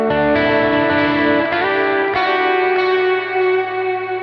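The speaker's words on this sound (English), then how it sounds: "So here it is with all the reverbs and delays and all the drives turned on." Sustained distorted electric guitar chords ring out with heavy reverb and delay, loud and dense, changing a few times with no voice.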